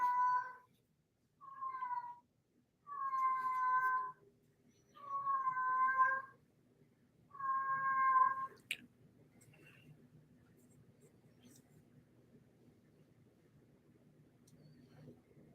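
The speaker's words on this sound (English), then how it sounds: "That's the sound of a very stupid cat." Several drawn-out meows from a cat, five distinct calls in a row over the first half, then quiet low background hum with faint rustling.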